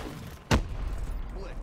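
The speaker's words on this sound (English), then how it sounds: "that was a big explosion" A big explosion in the Call of Duty: Black Ops 3 video game, one sharp loud boom about halfway through, followed by a low rumbling tail under ongoing game noise.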